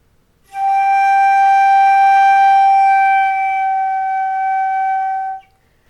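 A single flute note on G held for about five seconds, played with gently slowed air so the pitch sags slightly, clear and steady with a soft fade at the end.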